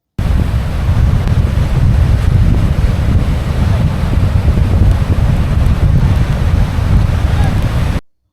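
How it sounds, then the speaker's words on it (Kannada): Strong wind buffets the microphone at the Kundapura seashore during rainy weather, a loud continuous roar blending with crashing waves rushing in, steady throughout before cutting off abruptly. "ಎಷ್ಟೊಂದು ಗಾಳಿ ಬೀಸ್ತಿದೆ, ಎಷ್ಟೊಂದು ಅಲೆಗಳು ಜೋರಾಗಿ ಬರ್ತಿದೆ"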